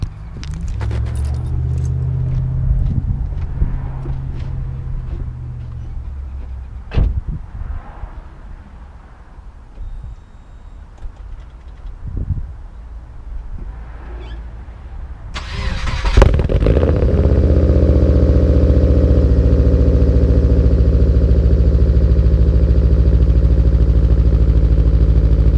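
Keys jangle and rattle near a Subaru, then the engine cranks and catches with a sudden roar around the middle and settles into a loud, steady idle that runs to the end.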